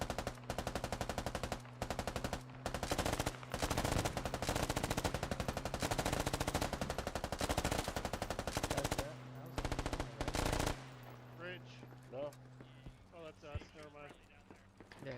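Sustained machine gun fire in the military shooter game Squad: dense, loud automatic bursts roll on for about ten seconds, then give way to sparser shots with voices talking over them.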